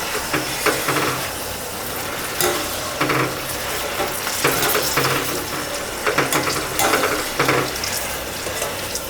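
Okra (lady's finger) pakoda frying in hot oil while being stirred, a steady close sizzle with repeated scraping clinks of the spoon through the batch, no talking.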